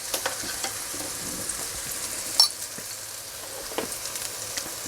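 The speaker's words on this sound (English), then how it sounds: "just cook those onions before we add the tomatoes" Onions with garlic, dried oregano and chili flakes sizzle in a pan, a steady close frying hiss broken by a few light clicks and crackles, with no talking.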